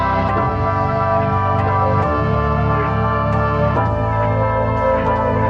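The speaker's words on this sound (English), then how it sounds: "now this is what the melody sounds like halftime." Ambient beat melody sample played back with a halftime effect, slow layered tones and sustained chords with occasional soft plucked accents, steady and full with no drums.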